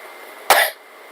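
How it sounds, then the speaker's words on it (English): A single sharp cough from a person still recovering a hoarse voice, close and abrupt, standing out against a quiet room hum. "I'm still coughing"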